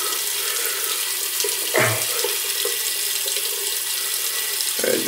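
A tap runs steadily for a cold-water rinse, with a constant hiss of flowing water throughout and a couple of brief splashes or sloshes near the start and the end.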